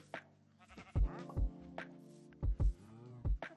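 A sheep in a video game bleats several times in quick, wavering calls, close and fairly loud, with short pauses between bleats and no talking over them.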